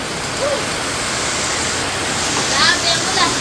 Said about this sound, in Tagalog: Grabe lakas po ng ulan.